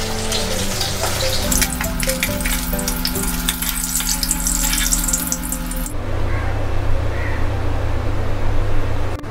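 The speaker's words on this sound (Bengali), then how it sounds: "এখানে আমি মাছ দুটো ভেজে নিচ্ছি।" Two fish fry in a pan of hot oil for a Bengali matikalai dal, giving a steady, close sizzle throughout. The crackle is busier at first and then settles into a calmer, even hiss, with no voices.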